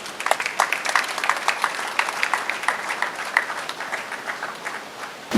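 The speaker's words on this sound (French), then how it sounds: "je voudrais vous prier d'applaudir ce couple" Wedding guests applaud the bride and groom, a sustained patter of many hands clapping at moderate distance for several seconds before a louder thump at the end.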